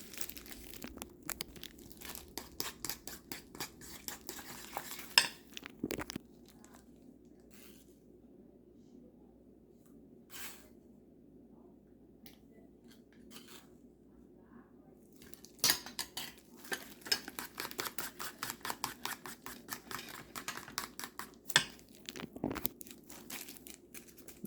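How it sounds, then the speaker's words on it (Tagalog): Batter for brittle ampalaya being stirred in a bowl, a run of quick scraping and clinking of a utensil against the bowl that pauses briefly midway, then resumes. "Continuous ang paghahalo natin sa mixture."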